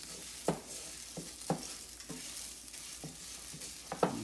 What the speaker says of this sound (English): That's what I'm looking for, the little cracking. Like crack, crack, crack, crack, crack. So you saute your risotto.